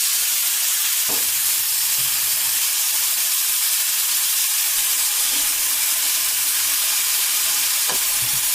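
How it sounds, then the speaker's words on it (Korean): Salted sliced meat frying in a pan, with a steady broad sizzle running throughout at moderate level, plus a few faint clicks and soft knocks. "썰어진 고기 위에 소금 간을 해주세요. 이제 잘 익도록 구워주시면 끝입니다."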